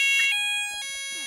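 A fire alarm sounds inside an Asda supermarket, a loud, steady electronic tone with a brief break partway through, filling the shop.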